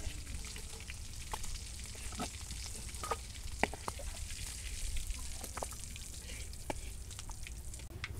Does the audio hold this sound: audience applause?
no